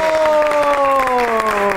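A studio audience at a Pakistani comedy show applauds and cheers to welcome film star Sana, with a steady wash of clapping under sustained tonal music.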